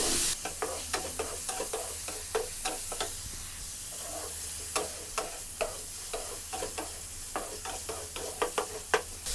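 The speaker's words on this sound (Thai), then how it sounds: "เติมน้ำมันของเราได้เลยไม่ต้องเยอะมากนะครับประมาณสัก2ช้อนโต๊ะ ขั้นตอนนี้ผัดเลยครับ" Chinese sausage stir-fried in about two tablespoons of oil over low heat, with a steady close sizzle and frequent sharp scraping and clanking of the spatula against the pan in an irregular rhythm, no talking.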